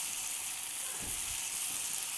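Food frying in a pan gives a steady, close hiss and crackle of sizzling fat throughout, with a few faint low knocks or stirring sounds in the middle and no talking.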